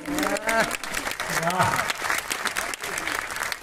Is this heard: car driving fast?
no